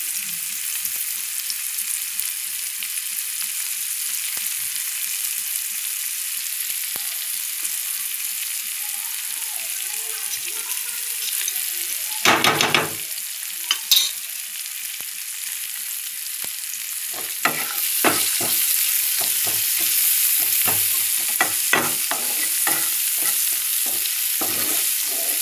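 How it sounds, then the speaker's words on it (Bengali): Onions fry in oil in a pan with a constant sizzling hiss throughout. A sharp burst comes midway, and a run of scraping stirring strokes follows in the second half. "একটু ভাজা ভাজা করবো"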